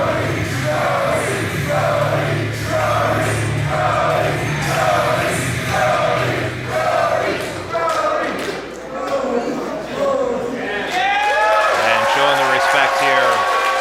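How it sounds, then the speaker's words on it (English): Crowd at a 2CW wrestling reunion event in Binghamton cheering and chanting in loud rhythmic waves, a repeated group chant giving way to scattered shouts and whoops near the end, with a commentator's voice briefly over it. "And listen to the crowd."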